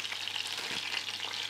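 A lamb shoulder seasoned with herbes de Provence roasting in a pan, giving a steady, close, soft crackling sizzle of frying that runs unbroken and without speech.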